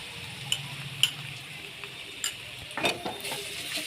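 Ginger and garlic paste frying with browned onions in a pan, a soft continuous sizzle broken by a few light spatula clinks and scrapes, close but fairly quiet.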